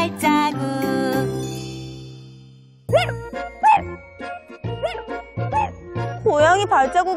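A voice imitates a puppy barking in a rapid sung 'woof-woof' run during a children's winter-safety song, following a bright jingling musical intro and mixed with other sung and spoken voices.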